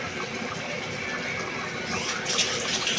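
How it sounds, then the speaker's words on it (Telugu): Water runs into a pot of soaked basmati and regular rice for mutton biryani, a steady gushing pour that grows slightly brighter toward the end, with no voices. "ఒక గ్లాస్కి మూడు గ్లాసులు నీళ్ళు వేయాలి"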